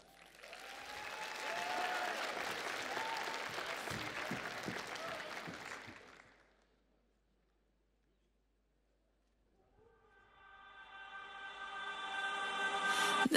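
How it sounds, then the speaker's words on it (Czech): A large audience at an anime festival dance show gives loud, sustained applause with some cheering for about six seconds, then falls silent before music begins. "Poprosím velký potlesk."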